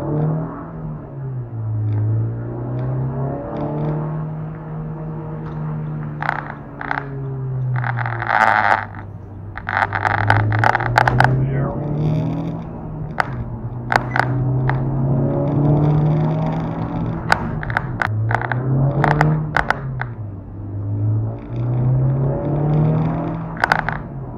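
A Honda Civic Type R hot hatch driven hard, its engine droning steadily and rising and falling in pitch as it revs through gears, with wind and road roar throughout.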